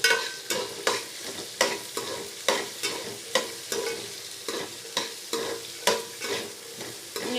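Green chillies, shallots and garlic frying in a pan give a continuous sizzle, with a steady beat of spatula scrapes roughly every half second, close up and with no talking.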